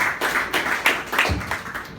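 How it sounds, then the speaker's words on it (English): A modest audience at a pitch night claps in a loose, uneven patter, the individual claps fairly distinct and close, lasting a couple of seconds. "Round of applause."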